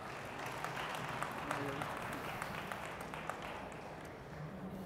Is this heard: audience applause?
yes